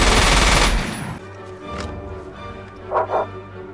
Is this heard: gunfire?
yes